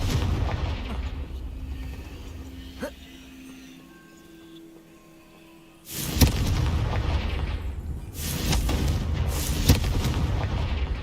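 Confringo blast spells in Hogwarts Legacy, a few loud booming explosions with rumbling tails, a sharp crack early then heavy blasts later, with a voice speaking over them.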